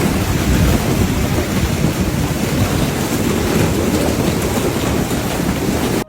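A hailstorm with heavy rain in Islamabad: a dense, steady roar of downpour pounding surfaces, with low rumbling underneath, loud and continuous throughout.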